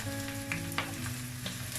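Cauliflower, potato and carrot pieces frying in a pan with onion and egg for a winter vegetable fry, a steady close sizzle broken by a few light clinks and scrapes, with no talking.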